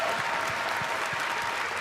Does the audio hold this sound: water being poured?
no